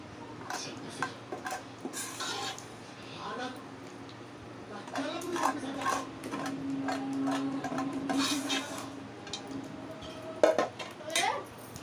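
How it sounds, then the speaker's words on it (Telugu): Cooked rice is tossed with a tempering in a pot for raw mango pulihora, a spoon scraping and clinking against the metal in uneven bursts while a voice talks quietly at times. "పోపు అంతా ఈ అన్నంలో కలుపుకుంటుంది."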